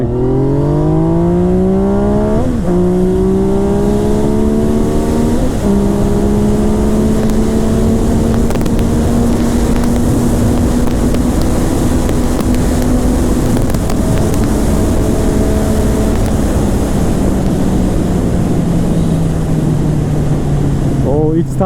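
Loud, close engine roar from a Yamaha MT-09 (FZ-09) motorcycle with ABS pulling hard through quick rising gear shifts, then settling into a sustained steady drone in second gear before easing off, with wind rushing throughout.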